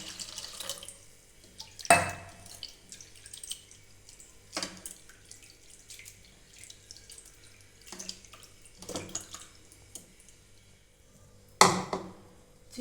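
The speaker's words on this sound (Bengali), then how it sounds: "ভালো করে জল দিয়ে ধুয়ে নেব জলটা ফেলে দেবো আর একবার আমি ভালো করে জল দিয়ে ধুয়ে নেব" Flattened rice (chira) is rinsed in water, with sharp splashing bursts and trickling pours at irregular intervals between quieter dripping, faint and close with no voices.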